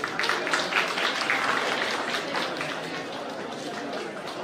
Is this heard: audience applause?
yes